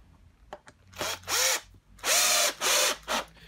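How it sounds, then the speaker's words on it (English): A cordless driver runs screws into the plastic soap drawer fascia of a Hotpoint WMA50 washing machine, heard as several short whirring bursts with pitch dips as the screws bite, separated by brief pauses and small clicks. "I think two screws should be enough for this one. So let's put them in,"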